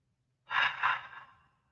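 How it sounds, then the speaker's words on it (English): A single slow, deliberate exhalation through an open mouth, a soft breathy whisper of air that swells, dips briefly, then fades out gently, close and quiet in an otherwise silent room. "Slow, deliberate exhalation."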